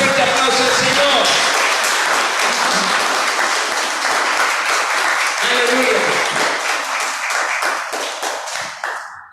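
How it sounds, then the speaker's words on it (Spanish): Church congregation clapping loudly and steadily in answer to a call to praise, with voices calling out over the hands before the applause thins and fades near the end. "Den un fuerte aplauso al Señor."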